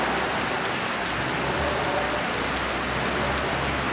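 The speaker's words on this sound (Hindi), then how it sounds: "बड़ी खूबसूरत बारिश हो रही है" Heavy rain pours down outdoors in a dense, steady hiss, loud and continuous across the whole stretch with no talk.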